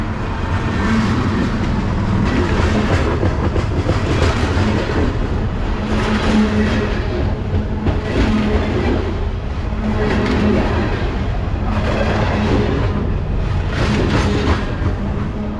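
A long coal train rumbles past close by, loud and continuous, with repeated rhythmic clatter of wheels over rail joints.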